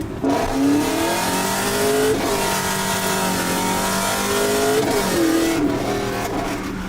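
Car engine revving hard and close, rising and falling in pitch through repeated throttle bursts, loud and continuous with no talking.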